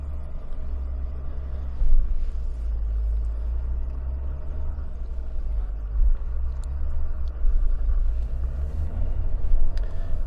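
Ineos Grenadier Trialmaster off-road 4x4, rear locker engaged, climbing a steep 19–23 degree hill under throttle: a steady low engine rumble and drone runs throughout, with slight surges, no speech.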